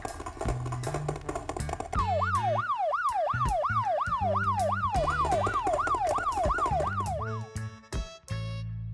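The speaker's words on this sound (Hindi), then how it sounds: "पुलिस जीप उनका पीछा करने लगी" A police jeep siren wails in a fast, repeating up-and-down sweep during a chase, loud and close, with engine and other vehicle noise under it before the siren cuts off near the end.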